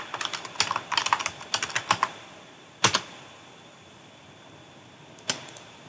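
Rapid bursts of keystrokes on a computer keyboard, fairly close and crisp, followed by a couple of isolated sharp key presses after a pause, with no talking.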